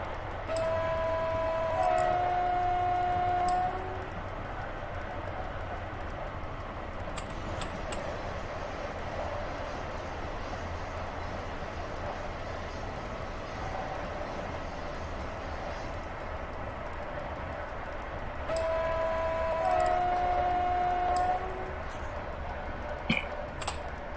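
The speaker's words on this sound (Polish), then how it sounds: "Jadzie pociąg." A train approaching from the opposite direction in the MaSzyna train simulator, with steady rolling rail noise and two sustained horn blasts, one near the start and another near the end.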